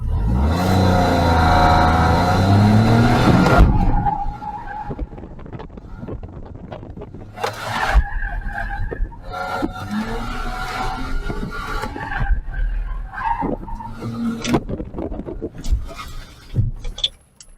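A car accelerates hard off the start line of a slalom run at a car club training day, a loud roar for about four seconds that then drops away as voices talk over the quieter background.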